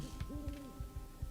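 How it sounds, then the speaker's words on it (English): An owl hoots repeatedly in the video game Palia, the soft low calls coming in a steady rhythm over a faint background hum. "I hear an owl hooting."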